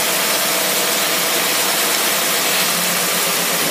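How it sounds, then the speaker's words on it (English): A Predator small engine idles on a dyno at a low torque setting, running smoothly as a loud, steady, close drone that holds without a break and with no talking. "Now I'm gonna put the dyno. I'm gonna idle it down a little bit. Boy, this thing runs so smooth."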